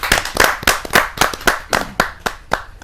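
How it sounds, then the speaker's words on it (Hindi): An audience at a Hindi poetry gathering, a kavi sammelan, claps to welcome a guest: a few close, sharp, loud hand claps in a fairly regular rhythm, with no speech. "जोरदार ताली के साथ हम उनका स्वागत"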